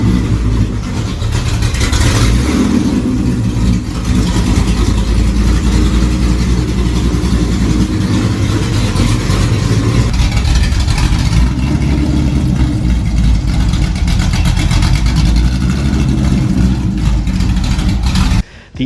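Wide-body Shelby GT500 Mustang with roughly 1,200 hp and Ford Racing mufflers, its engine revving and idling loudly up close with a deep, rumbling exhaust throughout.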